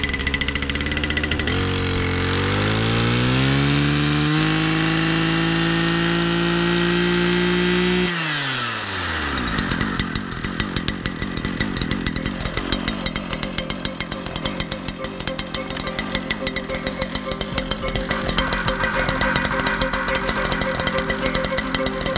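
A small petrol engine on scrub-management equipment roars at high speed, its pitch stepping upward, then drops to a rough, rattling idle that chugs steadily on, loud and close.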